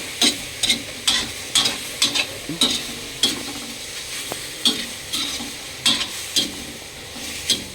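Pork stir-frying in a pan for a banana-stem curry: a constant oily sizzle punctuated by regular scraping and clattering strokes of a spatula, close up with no talk.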